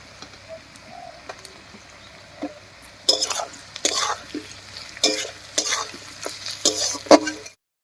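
Chopped potatoes hit hot oil with onions and spices in a Bengali home kitchen. A quiet stretch gives way to bursts of sizzling and spatula stirring, close and uneven, while birds coo faintly in the background.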